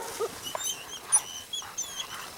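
Faint, high whimpers and soft whines come in short, scattered bursts, quiet and somewhat distant, with a little background noise.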